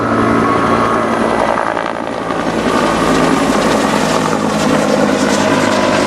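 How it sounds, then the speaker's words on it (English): A gunship helicopter flies low overhead at a Vietnam War reenactment at a fort festival, its loud chopping rotor and engine roar filling the air without a break for the whole stretch, with no voices. "Always the gunship in the area to provide any protection assistance as possible."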